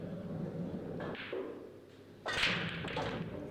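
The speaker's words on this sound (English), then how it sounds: "What a break again." A hard, flush break shot in an 8-ball pool match, the cue ball cannoning into the rack and scattering the balls with a sharp loud crack followed by rattling balls, over a steady background hum.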